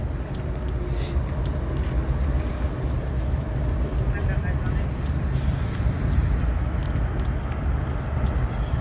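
Steady traffic rumble of cars passing through a neighborhood fills the whole stretch, a broad continuous wash with no distinct individual passes.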